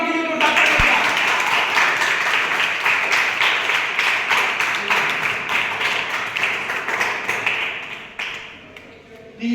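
Steady, loud applause from a quiz-show audience rewarding a correct answer, a dense wash of clapping that holds for about eight seconds before fading out.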